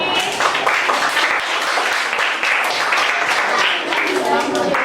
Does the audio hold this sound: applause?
yes